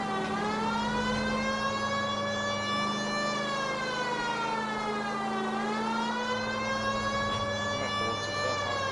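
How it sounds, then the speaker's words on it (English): Police sirens in L.A. Noire wail continuously and loudly, a harmonic-rich tone holding steady, then dipping and climbing again partway through over a constant low engine-like drone. "You hear sirens."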